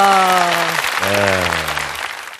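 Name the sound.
audience applause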